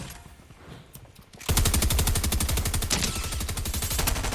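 Rapid automatic gunfire from the video game Fortnite bursts in loudly after a quieter opening second and then continues as a dense, sustained stream of shots to the end.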